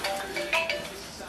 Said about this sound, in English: Oh, and that's my phone.